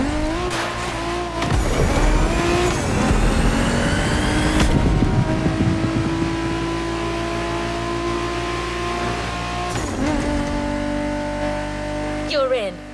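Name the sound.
1969 Camaro Z28 engine and tires racing, from video game The Crew Motorfest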